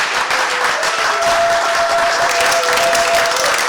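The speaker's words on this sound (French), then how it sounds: "Applaudissez fort pour notre DG" Loud, continuous applause from a ceremony crowd at a national museum, cheering a director general; dense clapping fills the whole stretch with a steady held tone running beneath it.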